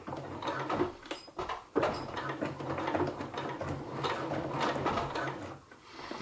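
Sewing machine back-stitching silpoly fabric at a 2.2 stitch length, a close mechanical whirring and clattering run with a brief stop near the start and easing off toward the end.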